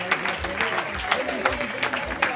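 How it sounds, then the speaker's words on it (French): An audience applauds sports champions at an honour ceremony, a crowd of rhythmic, fairly close claps with some voices mixed in over the steady clapping. "Applaudissements pour eux."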